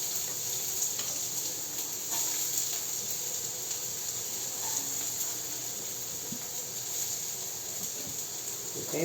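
Thinly sliced onions fry in oil in a kadai, giving a soft, steady hiss and sizzle throughout, fairly close, with faint stirring clicks and no clear talk over it.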